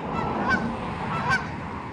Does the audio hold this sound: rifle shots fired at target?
no